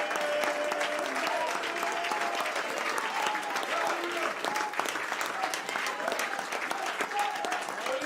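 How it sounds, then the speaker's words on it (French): A church congregation applauds and cheers in a loud sustained wave of clapping, with voices calling out over it throughout. "Oh, donnez une acclamation au Seigneur."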